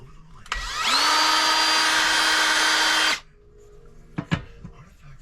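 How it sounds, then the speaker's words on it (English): A power drill whirs at a steady high pitch for about two seconds drilling wood blocks backing thin plywood, then cuts out, followed by a couple of quiet knocks. "So I'm drilling a couple blocks because this is such thin plywood."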